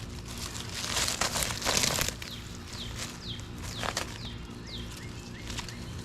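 A plastic bag rustles and crinkles as it is handled during a Purple Majesty potato harvest, with loud bursts of crinkling at first, then quieter intermittent rustling and faint bird chirps outdoors.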